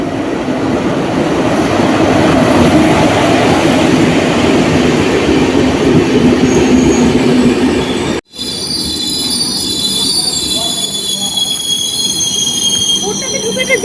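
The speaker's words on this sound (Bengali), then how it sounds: "এই যে আমাদের ট্রেন ঢুকছে, ওই দূর থেকে লাইট দেখতে পাওয়া যাচ্ছে, এই ঢুকছে।" A passenger train pulls into a station with a loud, heavy rumble of wheels. After an abrupt break the sound turns quieter, with thin, high metallic wheel squeals ringing over a low hum.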